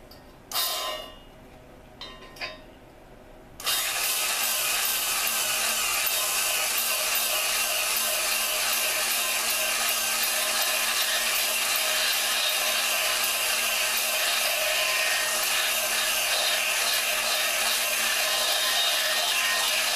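Lapping valves on a Dodge 4.7 engine with a powered tool gives a steady, loud, hissing grind after a few short bursts at the start, running continuously close by without talk.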